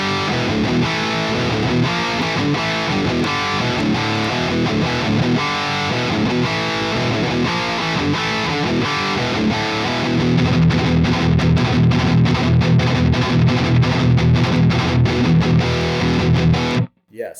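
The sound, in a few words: distorted electric guitar through Bogren Digital amp with pedal on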